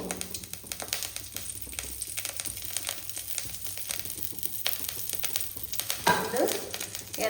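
Chillies and curry leaves fry in hot oil in a pan, a continuous close crackling sizzle with sharp popping, swelling into a louder burst near the end.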